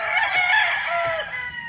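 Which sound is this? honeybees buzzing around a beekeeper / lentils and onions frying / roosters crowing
roosters crowing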